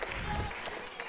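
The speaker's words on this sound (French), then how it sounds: "On applaudit Olivia bien fort, s'il vous plaît." A brief burst of audience clapping for a young performer on a French television show, dense and continuous with voices mixed in underneath.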